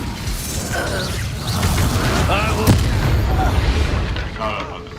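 Spell blasts explode in a Hogwarts Legacy duel, a dense run of booming, crackling impacts with a sharp burst near the middle, mixed with shouted incantations and game noise throughout.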